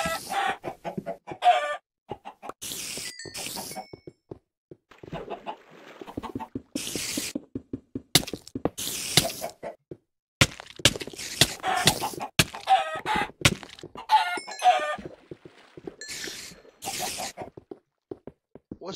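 Repeated chicken clucks and rooster-like crows from the game Hack Slash Mine, bursting in irregular clusters throughout with short gaps, fairly loud and close, no talking over them.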